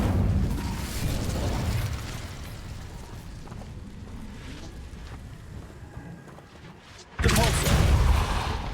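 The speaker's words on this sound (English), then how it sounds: "Incendio!" A fiery burst from the Incendio spell in the wizarding game Hogwarts Legacy, heard as a loud roaring blast at the start, a quieter crackling stretch, then a second sudden loud burst near the end.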